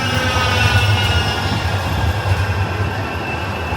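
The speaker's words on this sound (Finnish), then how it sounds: "Tunnistat sen näistä pylväistä ja ton ratikan piipeistä." A Manchester tram rumbles past close by, with a steady loud rolling drone and faint high squeal throughout, no beeps clearly standing out.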